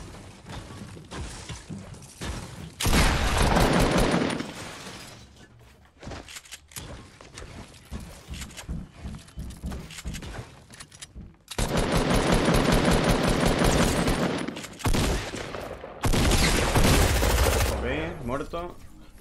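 Distant gunfire in Fortnite Battle Royale, several sustained bursts of rapid automatic shots separated by quieter gaps, with brief voices and game noise in between.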